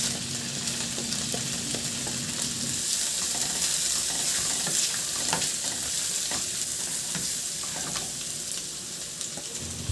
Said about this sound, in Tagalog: At igisa ko na rin yung bawang.